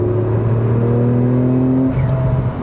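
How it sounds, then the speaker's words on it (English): A Porsche 911 Turbo S pulls hard under acceleration, its engine droning loud and steady with a rising turbo whine. The note shifts as it changes gear near the end, heard from inside with no talk. "Listen to that turbo sound."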